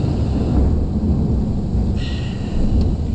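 Thunder rumbles low and continuous during a monsoon storm at Fort Myers Beach, a heavy steady roll lasting the whole few seconds with no voices.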